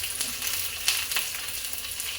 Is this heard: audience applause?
no